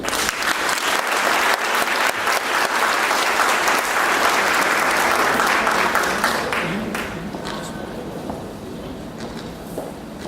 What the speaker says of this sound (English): Give Jennifer a round of applause.